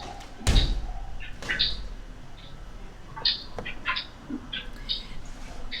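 An indoor door swings shut with a sharp slam early on, then a softer thump follows, while faint bird-like chirps and squeaks come from outside during a performance. No one speaks.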